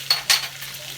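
Green beans with garlic stirred in a hot pan, two short scraping strokes over a steady sizzle, close and fairly quiet.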